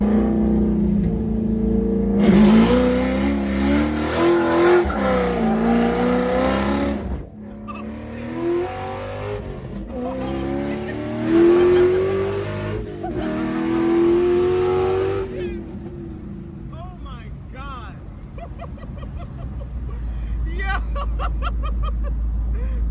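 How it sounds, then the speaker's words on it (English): A Ford Mustang GT500 doing a burnout to warm its tires, the engine revving hard in repeated rising bursts with squealing, hissing tire spin, then settling to a lower rumble, with people talking in the background. "We got to do a quick little burnout to get these tires warm."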